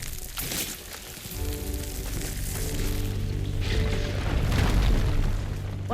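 Horizon Forbidden West firegleam detonating in-game: a deep, rumbling boom whose low roar swells and peaks near the end, with layered droning tones and crackling debris.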